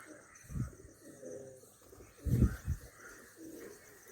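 Pigeons coo at a temple, giving a few low, throaty calls close by. The loudest pair of calls comes in the middle, set against quiet outdoor background.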